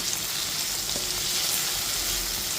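Chopped medium tomatoes with salt cooking in a pan, a steady close sizzle of frying throughout with a faint stir or clink near the middle, no talking.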